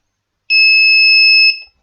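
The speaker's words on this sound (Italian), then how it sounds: "come sentite, beep semplice" A single steady electronic beep from an active buzzer driven by an Arduino, a clean two-tone buzz lasting about a second, loud and alone in silence.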